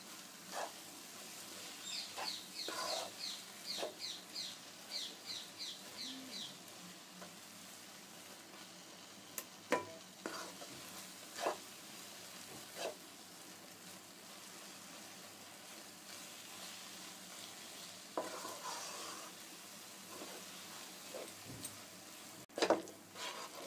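Raw mango chutney cooks in a pan at home, a faint, soft sizzle with scattered light stirring scrapes and ticks, quiet and intermittent.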